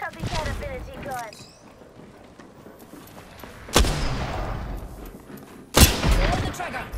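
Two sharp, loud gunshot blasts punctuate a video game firefight, each followed by a booming tail, with quieter crackling shots and chatter from game voices in between.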